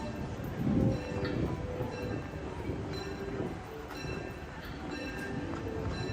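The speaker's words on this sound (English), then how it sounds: "I hear the train." A train at Disneyland rumbles past at a distance with steady rolling clatter and faint metallic squeals and tones, fairly quiet and continuous.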